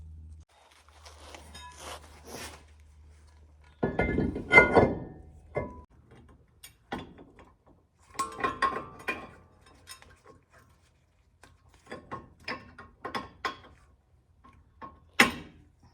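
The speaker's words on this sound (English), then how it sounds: "now I'm gonna get the rotor put back on and get this caliper on" Hand tools and a ratchet clicking and clanking while a brake rotor and caliper go back onto an NA Mazda Miata fitted with ARP extended wheel studs; scattered close metallic taps, clicks and short ratchet bursts with quiet gaps, no talk.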